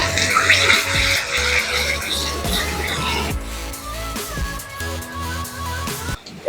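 Water pours into a pan of creamy chicken gravy during cooking, a loud splashing gush at first that settles into softer trickling and sizzling, with music playing underneath.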